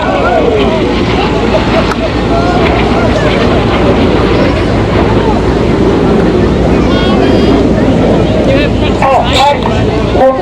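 Red Arrows aerobatic jets at an air show roar past continuously as a loud, broad, wind-buffeted rush that holds steady throughout, with a commentator talking over it.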